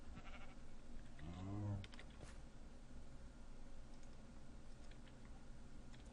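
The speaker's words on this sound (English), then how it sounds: "That is sheep, right?" A sheep bleats once in the Minecraft Galacticraft game, a short wavering cry over a steady low background hum, with faint key clicks around it.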